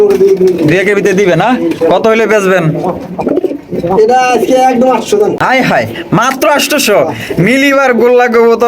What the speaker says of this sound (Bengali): আচ্ছা একজোড়া গোল্লা কবুতর দেখতে পাচ্ছেন